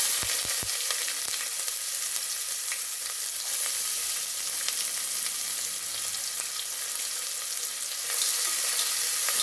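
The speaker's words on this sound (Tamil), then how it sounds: "நான் வெங்காயம் போட்டுக்கிறேன்" Chopped onion sautéing in a pot for a one-pot vegetable porridge, giving a continuous soft sizzle and hiss with a few sharp clicks at the start, near and without speech.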